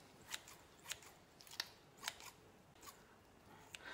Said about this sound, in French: Je découpe ensuite mon surimi en petites lamelles comme ça